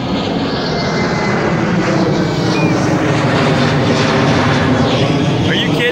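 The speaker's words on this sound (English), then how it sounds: "planes taking off" Loud, steady roar of airplane engines as a plane takes off from BWI airport nearby, heard from a park, a continuous broadband rumble filling the whole clip.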